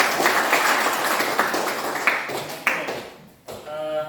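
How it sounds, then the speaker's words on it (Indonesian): Students clapping in an Indonesian classroom lesson, a brisk spatter of hand claps with a few louder single claps that thins out and stops near the end. "terima kasih tepuk tangan"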